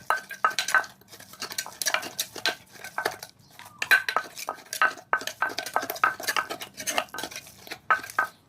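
A utensil stirs mashed herbs and roasted rice into mackerel soup, giving quick repeated scraping and clinking strokes against the pot in an uneven rhythm, close and clear, with no talking.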